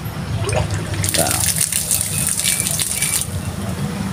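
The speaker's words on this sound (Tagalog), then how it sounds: "Pag open natin to, may lumabas na tubig dito." Water gushes steadily from a pipe opened off a supply tank, making a loud, close splashing flow while a voice talks over it.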